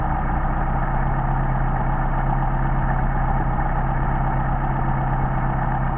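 A Mercedes 190SL engine fitted with Solex carburetors idles smoothly at around 800 rpm, a steady, close, loud low rumble with an even throb and no voices over it.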